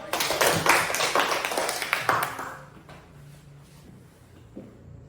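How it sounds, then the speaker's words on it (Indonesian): A classroom of students claps together in a short, lively burst of applause lasting a couple of seconds, then it fades into quiet room noise. "Kita beri tepuk tangan dulu"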